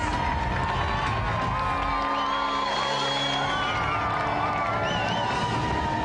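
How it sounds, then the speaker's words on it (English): A loud TV game show studio audience applauds, cheers and whoops continuously, with voices shouting over the noise. "let's have another round of applause"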